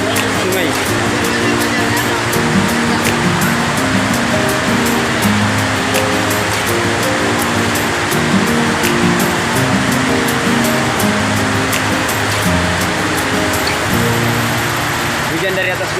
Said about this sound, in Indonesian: Banjir air sungai.